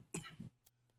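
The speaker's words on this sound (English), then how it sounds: "sorry if that cough comes through" A single short cough, followed by a faint throat sound, alone and fairly quiet in a quiet room.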